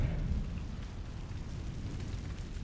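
A fire spell is cast in the Hogwarts Legacy video game, heard as a deep, rumbling eruption that swells at the start and then settles into a sustained low roar, with no talking.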